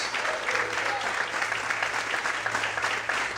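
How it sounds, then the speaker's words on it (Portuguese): Members of a church congregation applaud during an evening worship service, dense and steady clapping throughout, with a low hum and faint voices underneath. "Aplauda o Senhor essa noite."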